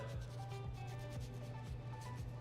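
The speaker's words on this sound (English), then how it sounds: "And then you can put that on, rub that in, and let that sit for a bit." Faint, soft rubbing strokes of enzyme stain remover being worked into a wine stain on fabric, repeating in an even back-and-forth rhythm about twice a second.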